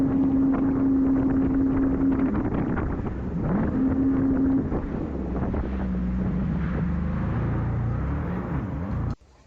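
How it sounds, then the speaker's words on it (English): A fast jet ski engine drones at sea off a Philippine beach, a steady motor hum with a rising and falling tone under heavy wind buffeting, loud and close throughout before cutting off abruptly at the end. "there is actually quite a lot of power on these kind of jet skis, and they go actually quite fast"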